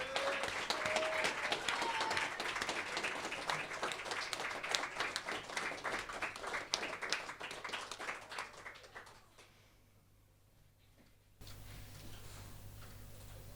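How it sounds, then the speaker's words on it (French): An audience applauds a performer at a live stage event with dense, steady clapping that slowly thins out and fades to near silence before a low room hum comes back. "Je vous demande un tonnerre d'applaudissements pour Julie."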